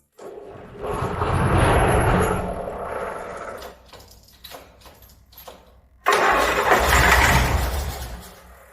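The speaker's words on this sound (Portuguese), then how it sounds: "Então, vemos que o motor basicamente quis ligar, né?" A diesel engine sprayed with quick-start fluid cranks and catches in two loud, rough surges with a sputtering, uneven stretch between them, close by, with no talking.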